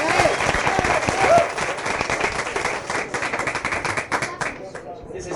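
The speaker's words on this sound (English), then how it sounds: "Can we have some applause for Mr." Studio audience applause greeting comedian Bill Rafferty at a 1977 Laugh-In audition, a full burst of clapping that thins out and tapers toward the end into scattered claps.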